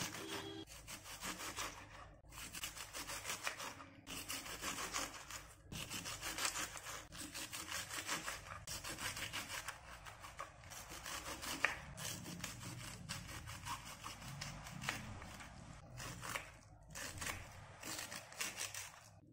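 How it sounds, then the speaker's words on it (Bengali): A knife slices through a quarter head of cabbage on a board, a long run of brisk, evenly spaced crunching strokes at close range with no talking. "এবার লাগছে 4 ভাগের 1 ভাগ বাঁধাকপি। দোকানের মতন এইভাবে কেটে নেব।"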